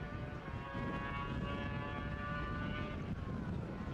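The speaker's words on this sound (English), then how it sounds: "you can hear that machine, that sidecar outfit squealing" A sidecar racing outfit at a road-racing circuit whines steadily at a distance, a high engine squeal riding over broad rumbling noise for the whole stretch.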